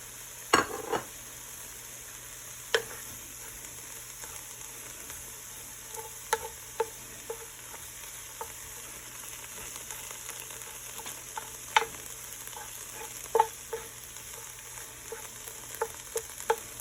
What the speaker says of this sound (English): Toss our onions in there. So this is a half an onion.